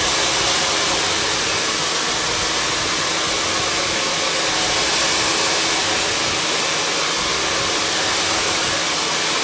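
A hair dryer with a nozzle attachment blows steadily and loudly up close while drying and shaping a bob haircut, a continuous even rush of air with no speech over it.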